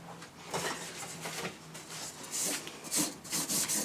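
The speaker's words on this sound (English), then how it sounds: "These scuff pads are pretty aggressive, which they need to be. I want to take this shine off anyway" A coarse scuff pad rubs steadily across a surface to dull its shine, producing close, repeated scratchy strokes that rise and fall in rhythm with no talking.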